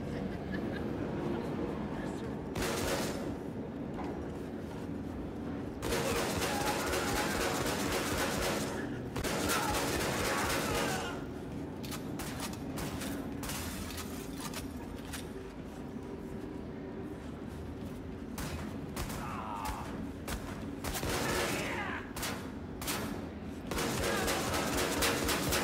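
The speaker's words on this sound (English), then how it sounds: "This is my favorite weapon, the automatic shotgun." Automatic shotgun in the shooter game Wolfenstein II: The New Colossus, played at the EGX 2017 expo, blasting in rapid dense bursts broken by short pauses, loud and close amid busy game noise.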